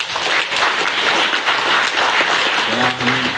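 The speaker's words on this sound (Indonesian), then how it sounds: "Tepuk tangan buat para Kades." Crowd applause fills a university community-service handover ceremony in Banyumas, honoring the village heads: dense, steady clapping from many hands runs loud and continuous throughout, with faint voices mixed in.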